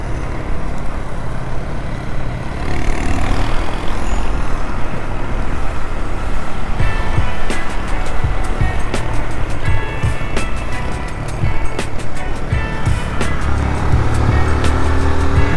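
A motorcycle cruising along a road, with steady engine and wind rumble throughout, passing traffic noise around it, and no talking.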